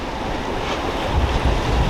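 Steady roar of ocean surf washing onto a beach, mixed with heavy wind buffeting the microphone, no voices.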